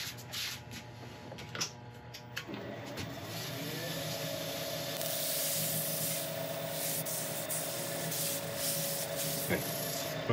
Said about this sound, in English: with a cloth and then rub it in as the lathe is spinning